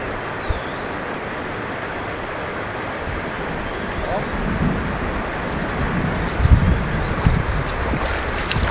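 Rain falls on a small fishing boat at sea, a steady, dense hiss with wind buffeting the microphone and occasional low thumps from the hull.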